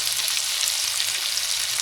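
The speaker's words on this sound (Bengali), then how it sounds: "তেলটা গরম হয়ে এসেছে, এখন আমি দিয়ে দিচ্ছি পেঁয়াজ কুচি।" Chopped onions fry in hot oil in a pan, giving a loud, steady, close hiss and crackle with no voices.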